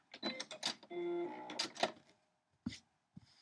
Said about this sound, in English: Maybe I'll run the stitch line up the roof, like so, all the way.